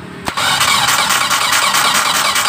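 A T120SS fuel-injected car engine cranks briefly after a sharp click, then catches and runs at a steady, loud idle with a slight whine, close to the listener and free of talk.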